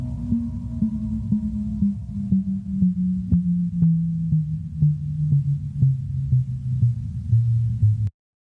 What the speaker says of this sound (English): fast radio bursts, which sound like this